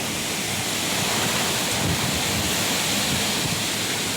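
Heavy rain driven by strong wind lashes down in Wardha district, Maharashtra, a dense, continuous roaring hiss with no breaks, loud and close throughout.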